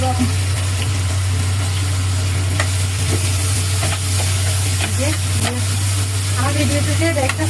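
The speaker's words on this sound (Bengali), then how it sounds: "আমি পেঁয়াজ মরিচ একটু ভাজা নিব।" Onions and green chillies frying in a pan beside fish, a steady dense sizzle with occasional stirring scrapes and a constant low hum underneath throughout.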